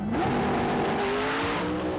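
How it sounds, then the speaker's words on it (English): A 1969 Camaro drag racing pulls away with a loud, rising engine roar and tire noise, the pitch climbing steadily across a short, close pass. "it's the driver of Busey's old car, the '69 Camaro, that still delivers a Popeye punch of its own."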